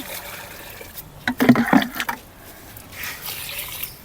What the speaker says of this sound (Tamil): இது மாதிரி எல்லா செடிக்கும் இன்றைக்கி தண்ணி ஊற்றி முடிச்சுக்கிறேன்